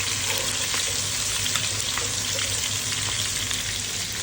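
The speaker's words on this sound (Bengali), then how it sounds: "এখন পেঁয়াজ দিব, পেঁয়াজটা ভালো করে ভেজে নেব।" Sliced onions fry in hot oil in a pan while goat meat curry is being cooked, giving a loud, steady, close sizzle with faint crackles and occasional stirring scrapes throughout, with no voices.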